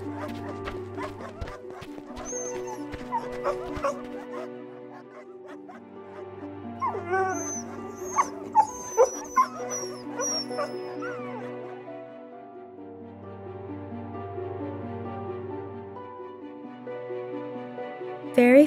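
Dogs barking, yipping and whimpering in an animated Buddhist story, scattered moderate barks over a soft music bed, with a narrator speaking at times.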